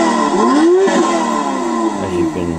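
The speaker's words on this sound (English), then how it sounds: "this digger has a sports car engine in it" A toy digger plays a generic sports car engine sound effect: a close, continuous revving that climbs in pitch, dips, then settles into a steady drone, with no talking.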